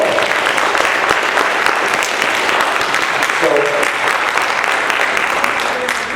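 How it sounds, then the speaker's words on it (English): Loud round of applause from an audience honoring a professional at a talk event, many hands clapping in a dense, sustained wash close by, with some crowd voices mixed in. "Will y'all give a true professional a round of applause?"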